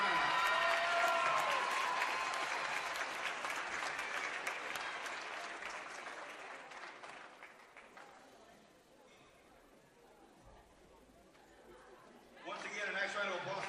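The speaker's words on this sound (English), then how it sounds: "Once again, a nice round of applause for Oriana." Crowd applause for a volleyball player at a high school all-star match, loud steady clapping that slowly fades, then rises again briefly near the end with chatter mixed in.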